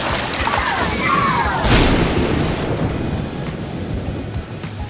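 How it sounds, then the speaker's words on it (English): A storm with heavy rain pouring steadily and a rumble of thunder near the middle, a loud continuous wash of rainfall close by with no talk. "Look, another storm is coming."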